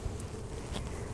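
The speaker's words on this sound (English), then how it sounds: "so now these remaining bees, I'm just gonna give them a good shake into the hive." Honey bees buzz softly around an open hive as a newly brought-home nuc is installed, a faint, steady drone of many insects close by with no talking.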